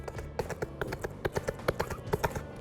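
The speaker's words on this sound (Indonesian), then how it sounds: "Kalau suara kuda?" Horse hooves clip-clopping in a steady trotting rhythm, a string of sharp, close knocks of even loudness with no other sound around them.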